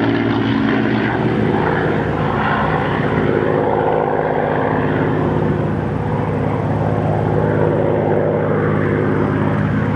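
A P-51D Mustang propeller fighter roars past at an air show, its loud droning engine sustained throughout with a steady, rumbling growl.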